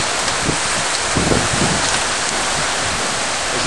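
Heavy storm rain in Houston, Texas, a steady close hiss of downpour with faint low rumbles underneath, continuous and without speech.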